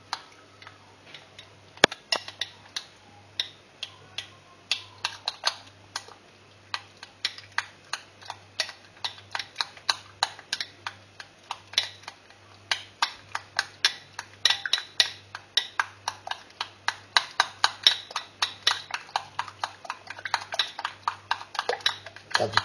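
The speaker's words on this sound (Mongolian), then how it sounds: "За цэцгийн тос өндөг хоёроо эхлээд ингээд сайхан зуураад өгнө." Butter and eggs being mixed in a bowl for a fruit pie, with a utensil ticking against the bowl in quick, steady strokes that grow faster and louder toward the end, close by and mostly alone.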